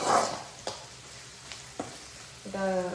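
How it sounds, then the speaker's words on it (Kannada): Curry leaves and onion fry in a pan for a roast gendadadde snack, a brief loud crackle at the start easing into a soft steady sizzle with a few sharp clicks of the utensil and a stir near the end. "ಈಗ ಇದಕ್ಕೆ ಸ್ವಲ್ಪ ಕರಿಬೇವು ಸೊಪ್ಪು ಹಾಕ್ಕೊಳ್ತಾ ಇದ್ದೀನಿ."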